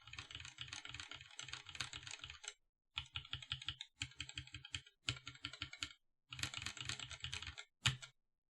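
Lubed mechanical keyboard switches, including Vint Blacks and Novel Keys Creams lubed with Krytox 205G0, clack in rapid, close bursts of typing separated by short pauses, ending with a single sharper keystroke.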